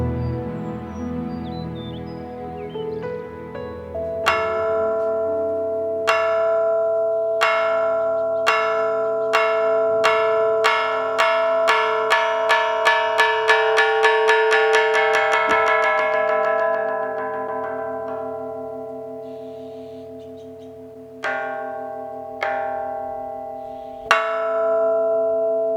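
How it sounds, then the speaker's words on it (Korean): A large Buddhist temple bell in Korea rings for the evening service, struck over and over in a steady run that speeds up and then slows, each loud strike leaving a long, humming resonance that overlaps the next. "저녁 예불을 알리는 종소리가 바깥 세상 곳곳에 번져갑니다."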